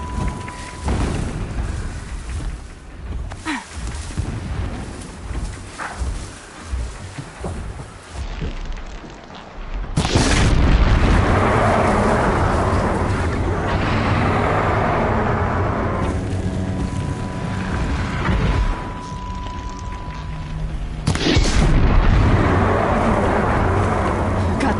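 Distant explosions rumble through a video game's soundscape, with a heavy burst at about ten seconds and another near twenty that swell into broad roaring noise over an ongoing low ambient drone.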